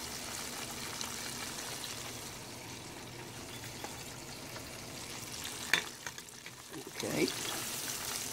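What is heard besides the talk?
ocean perch fillets frying in a pan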